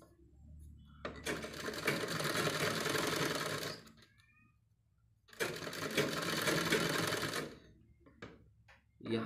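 A sewing machine stitches fabric in two long, fast bursts of dense mechanical rattling, separated by a short pause with faint handling sounds, close and fairly loud.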